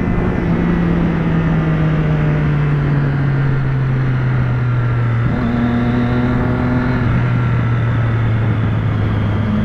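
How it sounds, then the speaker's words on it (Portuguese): Yamaha motorcycle engine roaring close by for the whole stretch, a steady loud drone that climbs in pitch, drops back and surges again as the rider works the throttle, with no talk over it. "Ei, Yamaha! O seu roncou violento."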